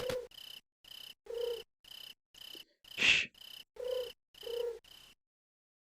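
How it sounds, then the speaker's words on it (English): Rhythmic cricket chirps from a night scene in the game Tactics Ogre: The Knight of Lodis on GBA, repeating in short even pulses about twice a second, with a brief louder burst partway through and a whispered hush. "Never mind the crickets or anything"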